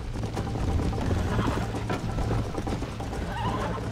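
Horse galloping in the video game Red Dead Redemption, a rapid rhythmic clatter of hoofbeats running steadily over a low background hum, with no talk over it.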